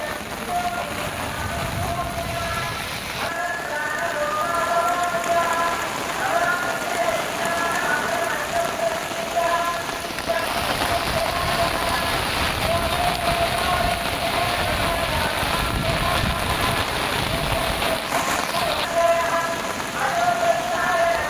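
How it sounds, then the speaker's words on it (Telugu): Dense, steady hiss of heavy rain pouring down and pattering on surfaces in Tirumala, continuous throughout with a faint tonal hum underneath. "తిరుమలలో భారీ వర్షం కురుస్తోంది"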